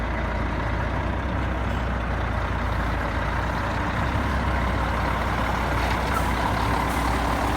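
A MAN-MAZ hybrid truck with a MAN cab, engine and gearbox on MAZ running gear, on a road trip from Yakutsk to Ust-Maya, runs with a constant loud engine drone and road noise, no talk heard.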